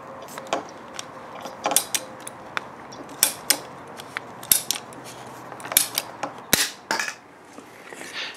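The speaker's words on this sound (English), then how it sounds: "I am actually using a pair of PVC snips." PVC pipe is cut with a pair of PVC snips, giving a series of sharp, close clicks and crunchy snaps at irregular intervals, with faint creaks of the ratcheting blades between cuts.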